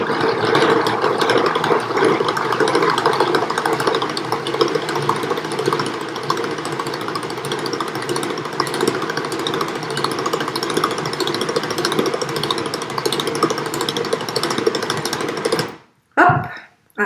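An electric kitchen mixer at its lowest speed whisking egg whites, a loud steady mechanical whirring and rattling that runs continuously, then cuts out near the end.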